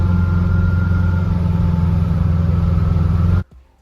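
A steady engine drone with a sustained mechanical whine from a Subaru 4EAT transmission with a reverse gear kit, installed in a VW bus, loud and close, cutting off abruptly near the end.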